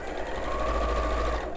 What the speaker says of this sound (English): And then sew along that edge, along that raw edge